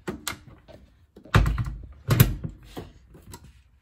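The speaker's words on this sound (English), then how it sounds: "Sunny really loves to help me put the washing on." Laundry being loaded into a washing machine: a few dull, close thumps and clunks of handling and the machine door, separated by quieter rustling and clicking.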